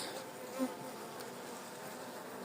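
Honeybees buzzing steadily around an open hive during routine spring checks, a dense continuous drone, close and even throughout, with no talking.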